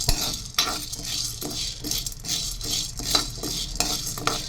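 Lentils stirred as they dry-roast slowly over low heat in a pan for Rayalaseema-style idli powder, giving steady scraping and rustling strokes with faint sizzle and occasional utensil clicks, close and continuous with no talk.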